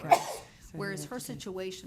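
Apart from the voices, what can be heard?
sneeze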